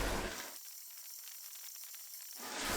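Garlic paste sizzling in a chicken karahi, a steady hissing fry that is loud at the edges of the clip and softer through the middle, with no voices.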